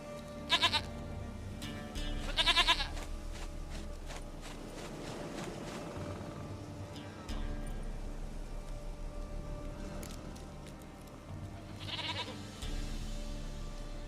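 A goat bleats in The Witcher 3 video game, two short wavering calls early and another near the end, set over a quiet low ambient bed with soft footstep-like movement.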